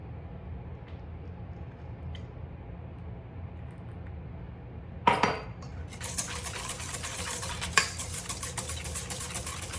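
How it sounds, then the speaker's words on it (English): A spoon stirs an egg mixture for German chocolate pecan pie bars in a bowl, a low steady scraping that turns busier and brighter partway through, with a couple of sharp clinks against the bowl. "I'm gonna get all this mixed together before I add the butter in"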